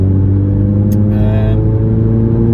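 Honda Civic FN2 cruising along country roads, its engine a steady loud low drone with constant road rumble, and a brief higher-pitched sound partway through.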